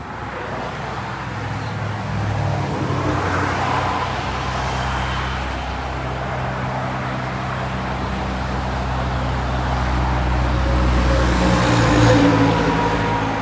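Road traffic roars steadily beside a concrete railing in Mississippi, a loud, continuous wash of passing vehicles that swells slightly toward the end, with no clear voices.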